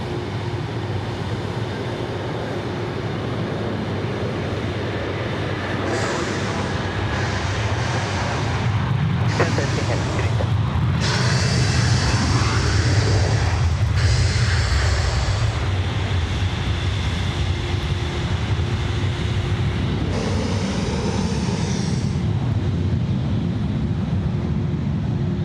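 A jet lands on runway 34 left at Sydney Airport, its broad engine roar swelling and lingering in the distance, while radio chatter and talk drift over the top at intervals.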